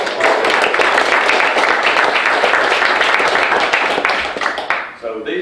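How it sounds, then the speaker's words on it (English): Applause from the audience at a Hamilton City Council meeting honouring young athletes and their coaches: a thick, even wash of clapping that tapers away near the end as a voice returns. "But give these guys a round of applause."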